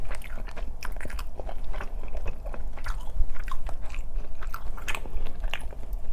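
Steady crunchy biting and wet chewing of a spicy Jamaican-style whole roasted chicken leg, close to the mic, with repeated crisp bites throughout and no speech.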